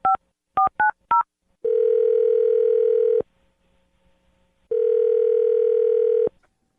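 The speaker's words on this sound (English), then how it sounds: "I'm going to dial his phone number right now" A telephone keys in a number with four quick dial beeps, then two long steady ringback tones separated by a pause of silence, clear and close with no voices.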